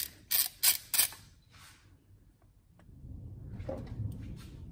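A ratchet backs out bolts on a Porsche Cayenne 3.6 V6 engine with three quick, crisp clicking bursts, followed by quieter, rougher metallic scraping and low rumbling movement.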